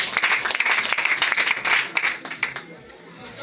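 A church congregation applauding at an evening service: dense, close clapping that carries on steadily, mixed with voices and cheering, then fades toward the end.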